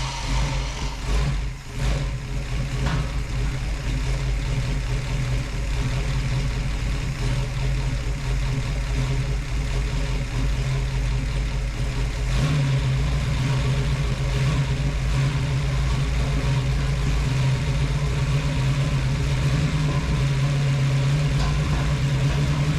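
A rebuilt Ford 429 Thunderjet V8 catches after a brief crank and settles into a loud, steady idle, a deep continuous rumble that holds and thickens slightly midway through.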